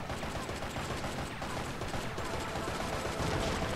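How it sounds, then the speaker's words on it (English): Rapid, continuous gunfire in Bayonetta aimed at a statue, a steady rattling stream of shots at moderate level lasting several seconds without pause. "Shooting a statue because I can."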